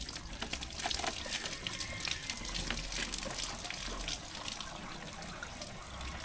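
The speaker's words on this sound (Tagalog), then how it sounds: "Nasunod tubig ng hose." Water running from a hose outdoors at a digging site, a steady splashing gush with uneven spattering, fairly close and continuous, with no speech.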